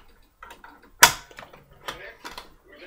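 A home peritoneal dialysis cycler door is opened to remove the cassette, giving one sharp mechanical click-clack, loud and close, amid quieter handling sounds.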